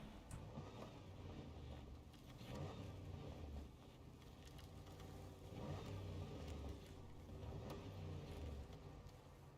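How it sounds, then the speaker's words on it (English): A truck engine in the off-road driving game Snowrunner hums steadily at low volume with a deep rumble, swelling and easing as the throttle rises and falls, with no talking over it. "Does have a good engine sound, though."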